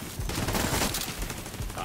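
Turret gunfire in the video game The Division 2, a dense, loud burst of rapid shots lasting under two seconds.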